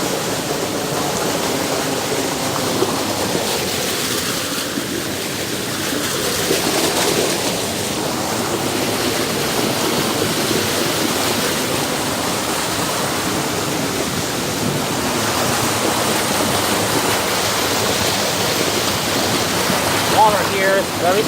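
Strong water rushes along a creek, a loud, steady roar of flow that is close and continuous throughout, with a few faint voices underneath.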